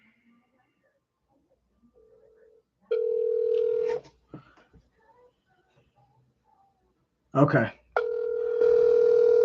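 A telephone dial tone sounds while a call is placed to a phone number, steady tones starting and stopping in two stretches with a brief voice in between and talk around them.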